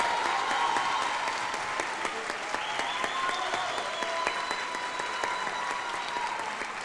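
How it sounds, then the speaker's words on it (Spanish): Audience applause fills the hall at the grand final of the Mexicana Universal Jalisco beauty pageant, a steady, dense clapping sustained for about seven seconds, with a faint voice and crowd murmur beneath. "Fuerte el aplauso."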